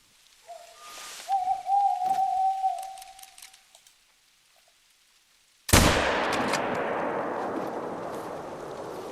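A single loud hunting-rifle shot rings out in theHunter: Call of the Wild with a sharp crack and a long rolling echo that fades slowly, following a bird's call in the quiet outdoors.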